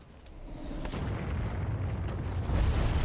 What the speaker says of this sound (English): Not get caught up near the explosions.